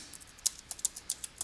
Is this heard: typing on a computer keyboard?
yes